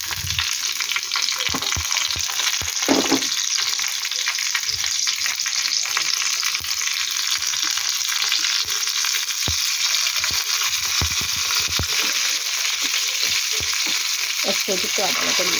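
Panch phoron, dry chilli and asafoetida fry in hot oil for a vegetarian dal, a loud continuous sizzle close up with occasional stirring knocks and scrapes.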